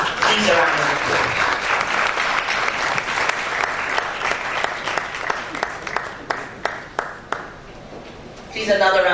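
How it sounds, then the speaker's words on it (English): Applause from a conference audience greets a speaker introduced on stage, a loud, dense roar of clapping that thins out into a few separate, distinct claps before talking resumes near the end. "Please round of applause."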